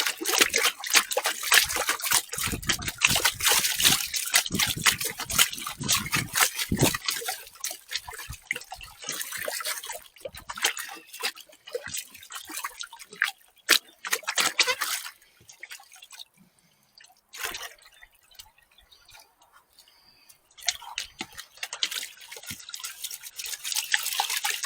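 Water sloshing and dribbling as gold panning material is shaken in a pan, a busy stretch of wet splashing and trickles up front that thins out to sparser drips and swishes with quieter gaps.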